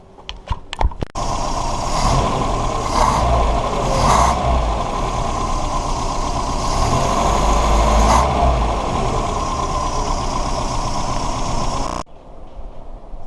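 A Toyota 4K engine fitted with a Weber 32/36 carburettor catches after a few clicks and runs at a steady, close idle for about ten seconds, then cuts off abruptly.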